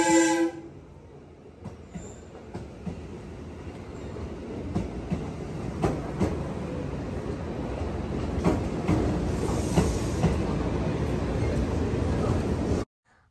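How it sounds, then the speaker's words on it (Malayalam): A train at a station platform in Japan sounds a brief horn at the start, then rumbles and clatters past steadily for several seconds before cutting off. "ട്രെയിനിൻ്റെ ഹോൺ ഞാൻ ഇവിടേക്ക് കേൾപ്പിച്ചു തരാം."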